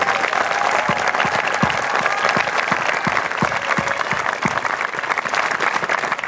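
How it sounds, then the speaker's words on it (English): A graduating class applauds family and friends at a 2024 high school graduation ceremony: steady, dense clapping from a large crowd, loud and continuous throughout with no break. "join me in a round of applause for their family and friends"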